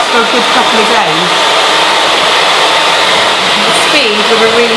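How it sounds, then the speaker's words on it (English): A hair dryer blows with a loud, steady whooshing hiss, and a voice is faintly audible over it. "with a really powerful hairdryer"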